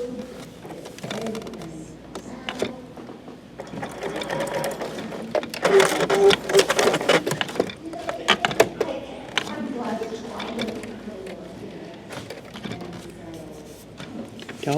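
A sewing machine stitching paper-pieced fabric for a Stellaris quilt block, running in steady bursts with rhythmic needle clatter, close and fairly loud, with a brief voice partway through.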